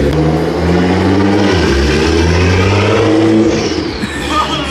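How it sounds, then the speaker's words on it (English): Nissan GT-R engine revving hard under acceleration with loud turbos, a close, roaring sweep of engine pitch that rises and falls with a high turbo whistle near the end. "GTR sounds so good, dude. It sounds crazy. The turbos are loud."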